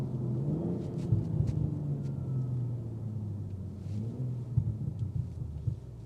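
A 2026 BMW M440i Coupe gives a low, rumbling exhaust burble while driving, a steady deep grumble with small irregular pops rising through the cabin road noise.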